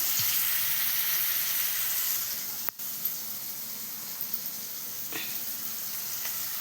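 Ponnaganti greens hiss and sizzle steadily in a hot pan with softened onions, tomatoes and a little salt, a continuous close frying noise with one brief break and a few faint clinks.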